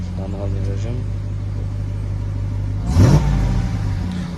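A Hyundai Veloster engine rising in a brief rev over a steady idle hum in manual mode, recorded close up, with someone speaking through much of it.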